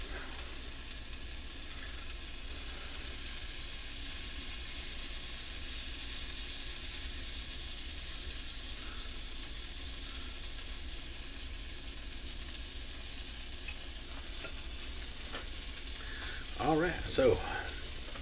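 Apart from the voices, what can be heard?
Birch Benders keto pancakes sizzling while cooking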